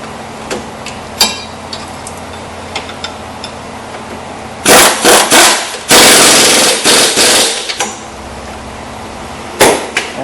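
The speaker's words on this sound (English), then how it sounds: "if you have your air gun, you use air" Air impact gun tightening a nut and bolt on a Chevy Tahoe shock, several loud rattling bursts of hammering, first short then longer, close and alone with faint clinks between.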